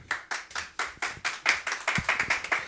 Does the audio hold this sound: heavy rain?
no